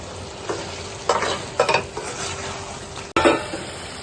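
Prawns cook in hot oil in a pan as lemon pieces are added, giving a low sizzle with a few louder bursts of stirring and clattering from utensils, close up and without voices.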